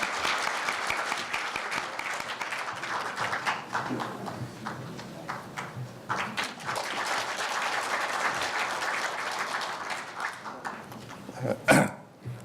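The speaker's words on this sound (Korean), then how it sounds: "큰 박수 부탁드리겠습니다" Sustained applause from a crowd at a formal anniversary ceremony, steady clapping that swells and fades slightly, ending with a brief louder burst.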